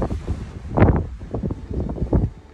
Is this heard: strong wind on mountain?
yes